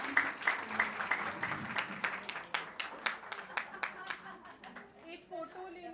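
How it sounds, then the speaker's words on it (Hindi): An audience applauds the cast of a Women's Day drama skit on stage, with a run of individual claps that is fairly close but thins and fades out, over crowd chatter and room noise. "एक बार जोरदार तालियां।"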